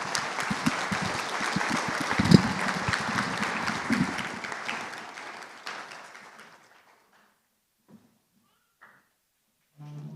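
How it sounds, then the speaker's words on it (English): A crowd applauds at a rally, with a few louder individual claps, before the clapping fades out after about six seconds into quiet broken by faint knocks and shuffling. "give her a big round of applause now"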